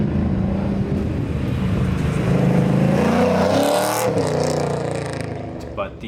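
Chevrolet Camaro engine with aftermarket exhaust, a loud, close, steady rumble that swells and revs mid-way before easing off, with no talk over it.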